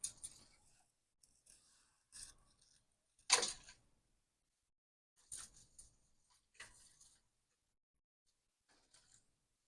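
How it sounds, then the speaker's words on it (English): Scissors clip plant pieces in a handful of short, sharp snips spaced irregularly, close and fairly quiet, with near silence between cuts. "This piece gotta be clipped down."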